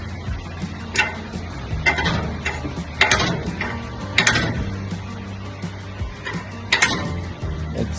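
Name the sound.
jack lifting a vehicle's differential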